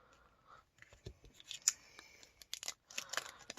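Glossy confetti seal stickers peeled off their backing sheet, giving a few close, crisp crackles and tearing rustles in short bursts with small pauses, no voices.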